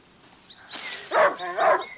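A dog barks a few times close by in a video game, A Plague Tale: Innocence, short rough yelps rising over a quiet background.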